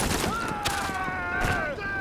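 Mounted gun turret on a truck firing in The Division, a rapid barrage of shots under tonal engine-like or music drones, fairly loud and continuous, with voices talking over it.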